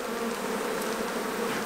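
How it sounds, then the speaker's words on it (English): Honey bees buzzing densely around hive frames, a continuous close swarm drone with no pauses. "Sometimes there's so many bees on these things and the frames get fat on the edge."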